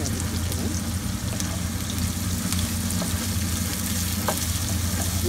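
Onion, green chili and ginger sautéing in a hot pan for rava upma, a steady close sizzle and crackle of frying with faint stirring scrapes, continuous throughout with no talking.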